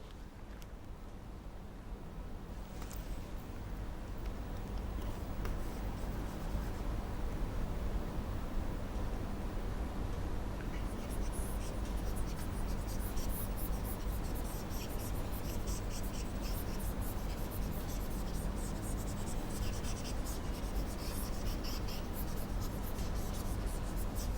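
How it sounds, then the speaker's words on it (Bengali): Pen or chalk writing out Bengali word meanings during a lesson, a steady scratchy stroking that runs on and on under a hiss of background noise, with no talk over it. "তার বাংলা মিনিংগুলো আমি একটু লিখে দিচ্ছি"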